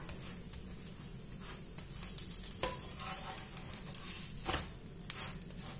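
Stuffed msemen flatbread cooks in a pan over low heat, a soft continuous sizzle with faint crackles and occasional light pops throughout, fairly quiet and steady.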